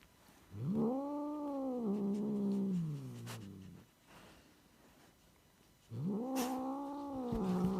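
A kitten yowls in two drawn-out, wavering cries, the first lasting about three seconds and the second starting after a short pause, both loud and close with no talk.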